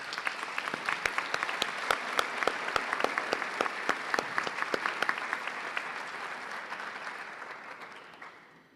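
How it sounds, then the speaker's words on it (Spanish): Sustained applause from a conference audience at an Ibero-American rectors' convention, dense clapping with sharp individual claps standing out, holding steady for most of the span before gradually thinning and fading toward the end. "del maestro Lorenzo García Aretio, quien nuevamente merece nuestro reconocimiento y un gran aplauso."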